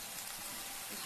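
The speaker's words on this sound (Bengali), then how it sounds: "দেখো, এর মধ্যে আদা রসুন টমেটো দিয়ে মশলাটাকে আমি ভালো করে কষিয়ে তৈরি করে নিয়েছি" A masala of ginger, garlic and tomato sautés in a pan, a faint, steady sizzle of frying that carries on unbroken.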